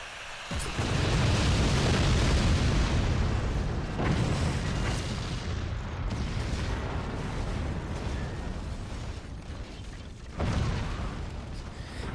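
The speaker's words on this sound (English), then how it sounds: "Oh, rockets!" Rockets explode in the strategy game Forts as a continuous barrage of deep, rumbling booms, loud and layered, with sharper blasts standing out near the start and again toward the end.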